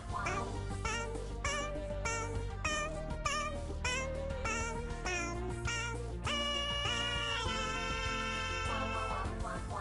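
A baby Schmoochle monster from My Singing Monsters sings a bright, squeaky melody of short repeated chirping notes over a steady game music backing, close and clear.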